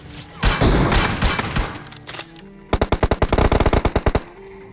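Rapid automatic gunfire in an online shooter game, a dense burst of overlapping shots followed by a second run of about a dozen sharp, evenly spaced loud bursts, with no talk over it.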